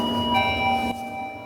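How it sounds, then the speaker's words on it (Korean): A home doorbell chimes in a ringing electronic tone over a quiet indoor backdrop, a short sustained ding that cuts off abruptly partway through. "초인종이 울리자"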